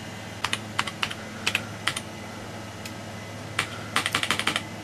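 Typing on the keyboard of an old Fora LP-286L laptop with some worn, partly failing keys: sparse clicky keystrokes in small bursts, then a quick run of taps near the end, close and fairly quiet over a low hum.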